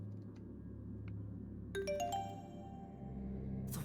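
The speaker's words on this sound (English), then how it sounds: "That sound reminds me a lot of like classic message notifications" A bright notification chime rings out in the game Beyond the Edge of Owlsgard, a quick series of clear bell-like tones with a long ringing decay over a quiet, humming background, followed by a short sparkle near the end.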